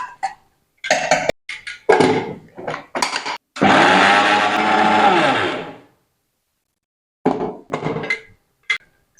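A mixer grinder pulverizes flax seeds finely to release their oil, a loud steady whirring roar of a couple of seconds set between short bursts of clattering pulses and silent gaps.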